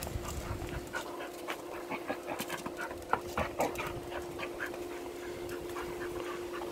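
Dog panting steadily close by while it goes after a ball it cannot get, with short sharp bursts of movement and faint whimpering mixed in; no one speaks.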